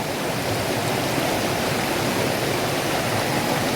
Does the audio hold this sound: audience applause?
no